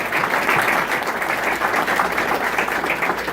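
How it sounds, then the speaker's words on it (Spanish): A church congregation applauding, a dense steady roar of many hands clapping together for the whole stretch, loud and close. "Dele un fuerte aplauso al Señor."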